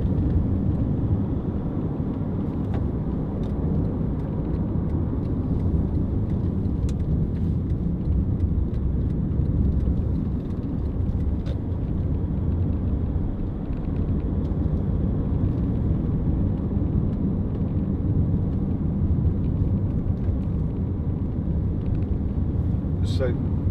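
A 2010 Honda CR-V 2.2 i-DTEC diesel station wagon cruising on an ordinary road, giving a continuous low engine and road rumble from inside the cabin throughout.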